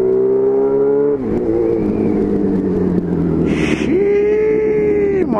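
A Suzuki B-King motorcycle accelerating hard in second gear at night, its engine note climbing steadily, dipping at a shift, then rising again with a loud, close rumble and no talking.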